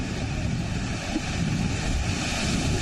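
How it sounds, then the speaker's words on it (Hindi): High sea waves whipped up by Storm Elsa off Barbados crash and roar under strong wind, a dense, continuous surf wash with no voices. "समुद्र में उठती ऊंची ऊंची लहरें"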